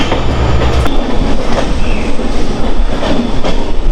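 Silchar Express passenger train rolling through a mountain tunnel built in 2012, about 239 m long: a steady, loud, enclosed roar of wheels and carriages with faint clickety-clack, no talking.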